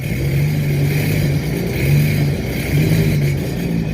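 A vehicle engine runs with the control panel disconnected, a steady close mechanical drone with a couple of mild swells in revs and no voices.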